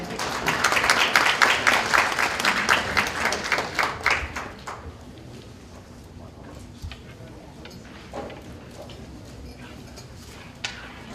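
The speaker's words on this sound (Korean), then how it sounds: "여러분 큰 박수로 맞이해주시기 바라겠습니다." Applause from a seminar audience at a Korean government informatization policy briefing, a few seconds of steady clapping that quickly fades to near silence.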